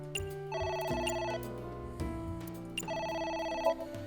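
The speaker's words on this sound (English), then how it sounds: "The phone's ringing again?" A telephone rings in the video game AI: The Somnium Files, two bursts of electronic ringing separated by a short pause, clear and alone.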